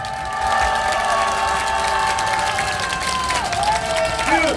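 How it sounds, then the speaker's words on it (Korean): A street rally crowd cheers and applauds in a steady, dense wash of sound, with long tonal whistles or sirens sweeping over it and a few shouts near the end. "우리 함께 환호하고 박수 치면서 연대의 힘을 높여갑시다."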